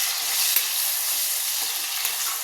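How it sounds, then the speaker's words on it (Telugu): Tomatoes and a small lump of tamarind sizzle in hot oil left from frying green chillies for gongura chutney, a steady close frying hiss with faint stirring, no talk. "అదే నూనెలో 2 టమాటాలను, ఒక చిన్న గోలి సైజ్ అంతా చింతపండు."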